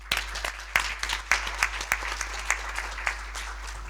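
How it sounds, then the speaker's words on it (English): Audience applause for a visiting doctor at an ophthalmology conference session, a few sharp claps rising into a steady, moderately sized round of clapping in a hall, with no voices over it. "customary applause"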